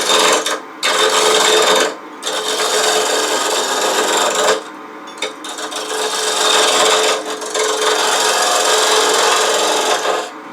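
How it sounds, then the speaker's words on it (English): A 3/8" spindle gouge cuts a square wood blank on a lathe, making a loud, close, continuous rasping scrape broken by a few brief pauses as the tool lifts off, with no talk. "I'm just going to use the 3/8" spindle gouge to start whittling away the end here in the square."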